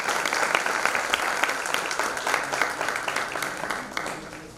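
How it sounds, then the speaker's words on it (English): An audience at a professional tax conference gives a round of applause for the speakers, dense steady clapping that fills the room and slowly tapers toward the end. "May I request a huge round of applause for our esteemed speakers"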